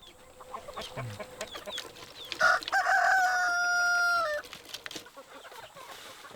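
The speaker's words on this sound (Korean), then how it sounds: "느닷없이 닭장을 만들어 놓고는 닭을 키우라 하니" A rooster in a newly built chicken coop gives one loud, drawn-out crow over scattered clucks from the hens, with a quiet farmyard around it.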